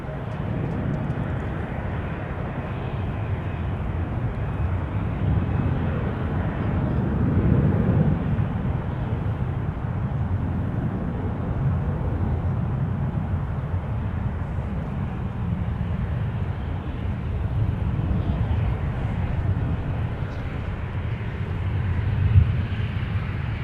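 An Air Canada Express airliner operated by Jazz Aviation arrives at Minneapolis–Saint Paul airport, its engines producing a steady, distant roar that swells gently and then fades slightly, with no clear voices.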